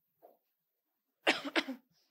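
A faint throat sound, then two quick, sharp coughs close up in an otherwise quiet room.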